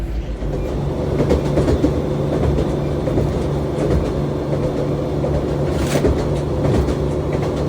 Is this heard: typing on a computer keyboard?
no